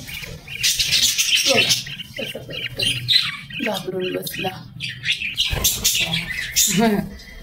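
Green bird squawking and chirping in a nest with growing chicks, repeated harsh calls close by, mixed with a person speaking briefly.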